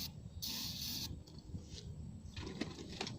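Two short hissing bursts of aerosol spray into the stuck rear outside door handle mechanism of a Mercedes-Benz ML500 W163, the first longer and louder, then a few faint clicks and rattles nearby.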